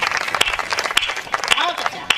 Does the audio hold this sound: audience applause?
yes